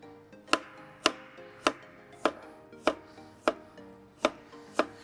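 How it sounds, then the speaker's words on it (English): Ginger being chopped with a knife on a board for a Sri Lankan chicken curry, nine crisp, evenly spaced chops close up, with no one talking. "we're gonna get some ingredients quickly chopped and minced up. So we need, for example, a little bit of ginger"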